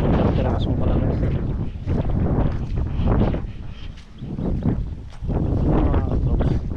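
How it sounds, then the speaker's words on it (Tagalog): Strong gusting wind sweeps across a calamansi farm, buffeting the microphone in loud rumbling surges that rise and ease in waves. "meron pang malalakas na hangin"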